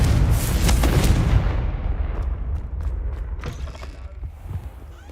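Hogwarts Legacy video game Confringo blasting spell going off, a heavy booming explosion with crackling debris that fades into a lingering rumble and scattered clatters, no voices over it.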